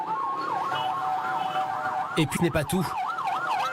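Wailing ambulance siren cycling steadily through Port-au-Prince traffic, loud and continuous, with a voice briefly speaking over it midway.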